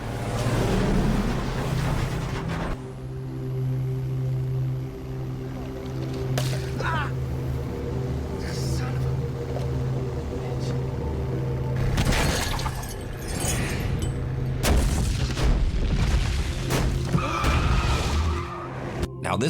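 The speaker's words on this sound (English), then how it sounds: "it featured this classic horror scene involving a log truck" The log truck crash scene from the 2003 film Final Destination 2 plays loudly, with screeching tires, skidding, repeated heavy impacts and glass shattering, layered over rumbling engine noise and a tense soundtrack.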